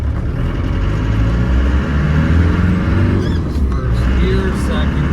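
A 1995 Land Rover Defender 90 300Tdi drives on a road, its engine droning loud and steady from inside the cab, with a voice speaking over it.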